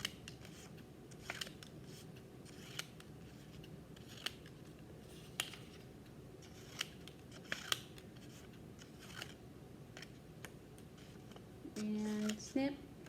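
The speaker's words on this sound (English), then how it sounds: "we have a lot of paper to cut, so I don't think we need all 3 stripes" Scissors snipping paper strips into squares at a pre-K occupational therapy session, scattered faint crisp snips spread through a quiet room with low background noise and some talk.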